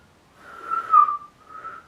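A person whistles a catcall imitation: one rising and falling two-tone whistle, clear and fairly close, then a softer trailing note, with no talking.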